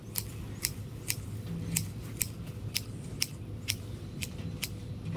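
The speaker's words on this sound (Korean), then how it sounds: "저는 힘들더라도 양손 가위를 사용하고 있습니다." Two-handed hedge shears trim a topiary shrub, giving crisp, sharp snips at a roughly even pace, about ten cuts in five seconds. The shears are close, over a faint low background hum.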